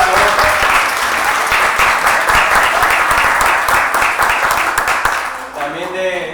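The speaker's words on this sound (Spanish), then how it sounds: "Un aplauso." A church congregation applauds a welcomed visitor in a loud, dense burst of clapping that fades out, followed by a voice speaking alone.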